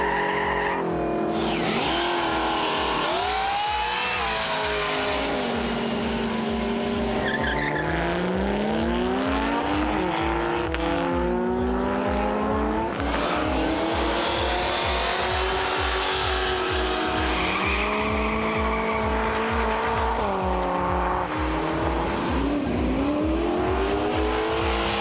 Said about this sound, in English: The off-street racing sees some very interesting matchups. The imports and the V8s battled hard all weekend.